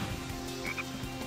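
A frog in Sonic Heroes croaks over steady game background music, a couple of short chirpy croaks sitting mid-level in the mix.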